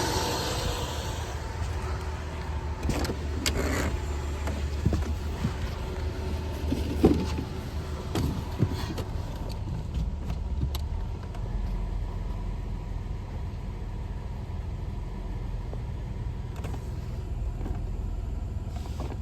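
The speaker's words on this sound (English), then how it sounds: "I'm gonna run it through the gears." Ford Thunderbird from the 1987–99 era idling and being shifted through its gears after a transmission service with 8.5 quarts of fluid, a steady low engine rumble with occasional clunks and faint mechanical clicks, no talk.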